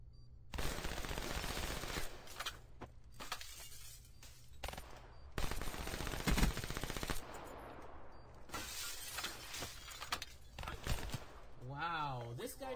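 Rapid automatic gunfire from a Black Ops 3 GameBattles match, dense overlapping bursts that run almost continuously at close range, with a player talking over the shooting.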